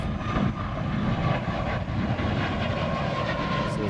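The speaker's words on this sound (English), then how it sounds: "This is nice takeoff." A large airliner taking off at a Hawaii airport, its engines giving a loud, steady roar that holds without pause.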